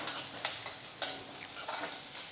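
Chopped onions fry in oil in a kadai, with a steady sizzle broken by a few sharp scraping stirs of a spatula, close up.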